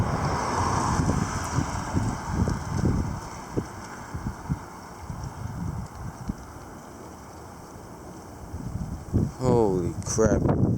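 Strong wind gusting to about 22 during a January winter storm buffets the microphone in heavy, uneven gusts and low rumbling thumps, with a voice briefly speaking near the end.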